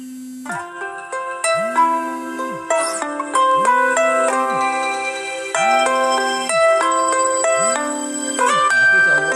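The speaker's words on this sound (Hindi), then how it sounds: "फोन आने की वजह से" A phone ringtone plays loudly, a repeating melodic tune with a swooping tone every couple of seconds, continuing without pause.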